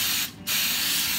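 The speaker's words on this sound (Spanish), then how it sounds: "Le voy a echar spray de cocinar para que no se peguen." Cooking spray misted into a pan before vegan sausages go in: two loud, close, steady hissing bursts with a brief gap between, heard alone without voices.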